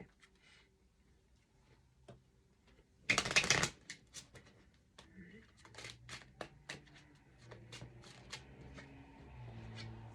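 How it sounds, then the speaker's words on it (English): Oracle cards from the When My Soul Whispered deck are shuffled and drawn, a brief dense riffle burst followed by scattered light taps and card handling, with soft talking underneath. "I'm going to take a card from the When My Soul Whispered Oracle deck"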